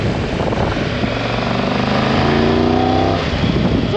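A Triumph Tiger 1200 GT motorcycle engine accelerates loudly and close, its deep, gruff tone rising steadily in pitch through the revs for several seconds, alone without talk.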